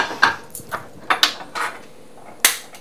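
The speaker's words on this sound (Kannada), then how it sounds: "ಸೊ ನಾನೊಂದು ಫ್ರೈಯಿಂಗ್ ಪ್ಯಾನ್ ಇಟ್ಕೊಂಡಿದ್ದೀನಿ" A frying pan is set on a stovetop in a home kitchen, giving several short metallic clanks and knocks at irregular intervals, close and fairly sharp, with quiet pauses between them.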